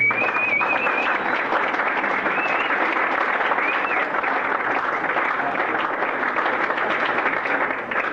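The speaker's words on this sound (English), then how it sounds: "round of applause for Mary Smith" A science-fiction convention audience applauds a Doctor Who actress arriving for a Saturday panel, a dense, continuous wall of clapping lasting several seconds before fading slightly at the end.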